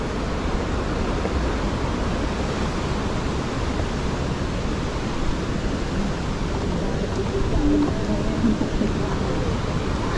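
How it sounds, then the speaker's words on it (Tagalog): Maranum Falls in Natividad, Pangasinan pours in a steady broadband rush of falling water, continuous and even throughout, fairly near, with no voices over it. "Yun na pala yung falls."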